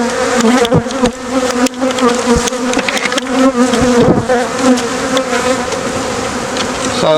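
Honeybees buzz densely and loudly around an open hive during a spring split, a steady close droning hum with no talking over it.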